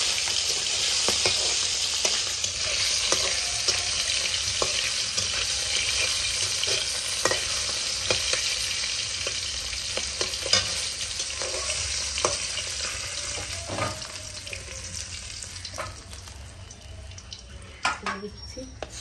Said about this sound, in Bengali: তেল গরম হয়ে গেছে, প্রথমে দিয়ে দিচ্ছি জিয়াল মাছটা।